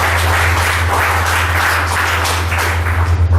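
A round of applause at a batch reunion gathering, steady dense clapping from a crowd sustained for several seconds over a low background hum.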